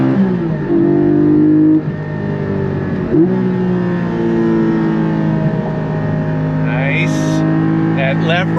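A Porsche 718 Cayman GT4, a mid-engined sports car, accelerates hard out of a corner, its engine note climbing loud and steady with rising harmonics and a shift partway through. A voice talks over it.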